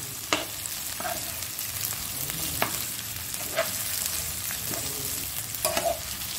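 Eggplant and onions frying in a hot pan to make spicy masala vankai, a loud continuous sizzle with a few sharp spatula scrapes and knocks as the pieces are stirred.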